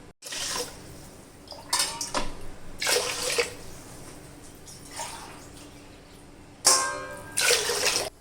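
Water is poured into a pressure cooker holding rice and lentils for bisibelabath, in several separate splashing pours with quiet pauses and a light metallic clink between them, close by with no talk.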